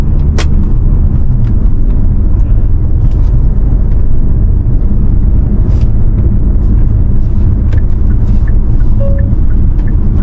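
Loud, steady low road and engine rumble inside a Hyundai Palisade Prestige diesel SUV with four-wheel drive on the move, its 8-speed automatic downshifting smoothly, with a few faint clicks throughout.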